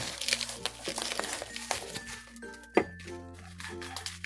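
Bubble wrap crinkled and handled while unboxing an action camera, close crackling and rustling with scattered light clicks and a sharp knock near the end.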